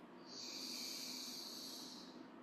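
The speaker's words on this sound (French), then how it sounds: "En inspirant par le nez" A single slow, soft breath drawn in through the nose rises and fades as a quiet airy hiss.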